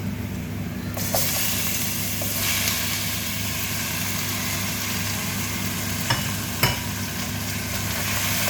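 Pancit is stirred and tossed in a hot frying pan, with steady sizzling frying and scraping stir sounds and a couple of sharp clinks against the pan, close and alone.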